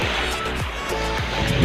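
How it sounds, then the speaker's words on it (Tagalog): Strong sea waves break at Bathala Beach in Marinduque, a loud, continuous roar of surf that surges and rolls without pause across the whole stretch. "Lakas ng alon, guys."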